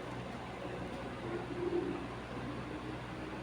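Soft, low pigeon coos murmur faintly in the background amid steady ambient noise.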